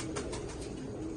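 A captured female homing pigeon with a numbered leg ring gives a brief, soft coo against a steady background hum.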